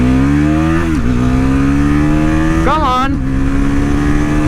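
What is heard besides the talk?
Bajaj Pulsar NS400Z motorcycle accelerating through gears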